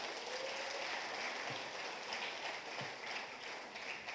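A church congregation applauds for the Lord in a steady, dense wash of clapping that holds evenly at moderate volume, with no voices over it.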